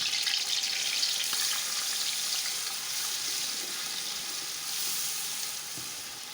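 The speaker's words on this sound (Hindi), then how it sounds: "अब ये सारी चीज़ें जाएंगी ऑयल में।" Chopped onion with garlic and ginger frying in hot oil, a steady dense sizzle that holds evenly from start to finish, close and fairly loud, with no voices.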